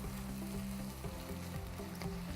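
Ground turkey with spices frying and browning in a pan over medium-high heat, a steady close sizzle with a faint stirring scrape and no voices.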